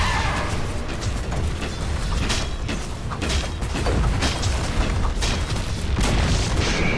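Dota 2 battle noise as a tower is destroyed, with dense, steady crunching impacts, booms and clashing effects layered together, loud and unbroken with no clear voices.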